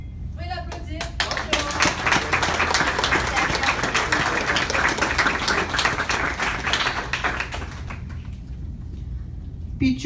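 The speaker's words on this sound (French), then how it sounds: "Oui, l'applaudir." Sustained applause and clapping from an audience at a citizenship ceremony, steady and fairly loud for most of the stretch, with voices mixed in and a brief pause near the start before the clapping fills in.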